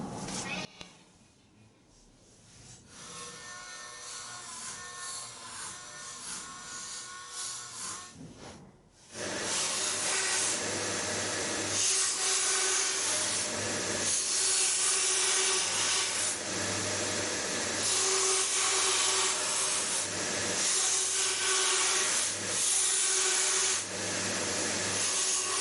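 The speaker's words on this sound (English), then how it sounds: "Onto the bandsaw, and I've got a brand new blade in this installed today, so it seems to be cutting quite nicely." Bandsaw fitted with a brand new blade cutting metal wingtip clips for a 1917 Sopwith Camel build, a steady loud grinding hiss running continuously after a quieter start, with speech over it.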